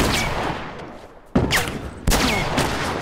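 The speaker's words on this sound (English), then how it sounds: "I hear these shots." Bursts of gunfire in The Last of Us on PS4, loud close volleys that start sharply and crackle on, with a brief quieter lull before two more sudden bursts.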